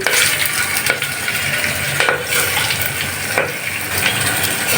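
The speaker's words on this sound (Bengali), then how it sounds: "আমি চাল ডালটা ভালো করে কষিয়ে নেবো" Rice and mung dal stir-fry in a pot with whole cloves, giving a steady sizzle with scraping spoon strokes and occasional knocks against the pot, close and fairly loud.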